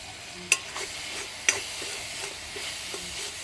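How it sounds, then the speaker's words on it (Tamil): A spoon stirs curry masala in a pan over a soft, steady sizzle, with two sharp scrapes against the metal early on and lighter stirring strokes after. "இதை போட்டு நல்லா சுருள கிண்டி எடுத்துடலாம்"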